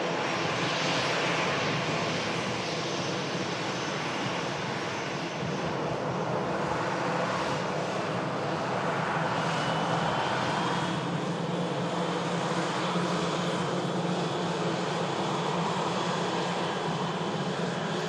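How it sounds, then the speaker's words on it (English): An easyJet airliner arriving at Manchester Airport from Palma de Mallorca roars steadily and loudly for the whole stretch, a dense, unbroken engine rush with no talking. "EasyJet arriving in from Palma de Mallorca"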